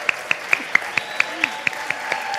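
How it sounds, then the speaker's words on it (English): Fathers are applauded at a Sunday gathering. About ten sharp, evenly spaced claps ring out at a brisk, steady pace over a quiet room murmur. "let's just have the fathers stand up and we'll give you a round of applause"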